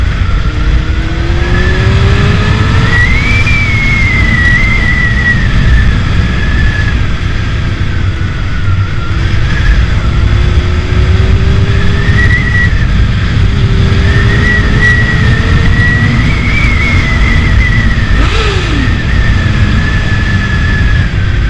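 A Honda Hornet 600 (CB600) motorcycle revving and accelerating, its loud engine whine climbing and dropping through gears over a constant heavy rumble of wind and road noise, with no talk.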